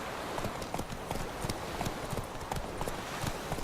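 Roach the horse trots through the Witcher 3 game world, hooves clip-clopping in a steady, even rhythm against a constant background of ambient noise, close and clear with no talking.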